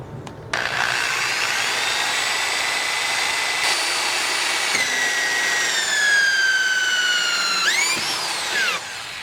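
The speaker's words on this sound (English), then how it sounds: "Using the hole saw that came with the kit on my drill, next I'm going to drill the hole into the door panel" A power drill fitted with a kit hole saw bores through a door panel, a steady whining cut with rising and falling pitch that runs continuously for most of the stretch before stopping near the end.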